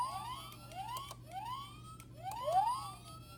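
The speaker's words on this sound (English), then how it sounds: "And the sirens would go off too." A toy police car model plays a small electronic siren, a series of quick rising whoops repeating about five times, thin and fairly quiet over a faint steady hum.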